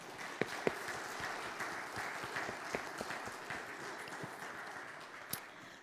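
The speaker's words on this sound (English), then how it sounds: "That deserves applause." A church congregation applauds for a long-married couple at a Sunday service, a steady, moderately distant wash of many hands clapping with a few sharper claps standing out, sustained for several seconds.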